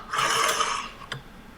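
A Rotatrim M24 paper cutter blade slides along its rail with no paper, giving a soft hissing scrape followed by a small click, faint and close.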